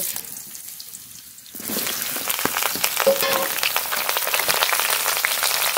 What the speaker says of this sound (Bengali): আগে পটলটা তেলে ভেজে নেব।